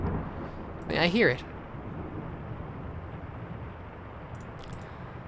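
A thunderstorm rumbles in the video game The Lion's Song as a steady, dense wash of rain and low rumble. A voice briefly speaks near the start, then the storm continues alone.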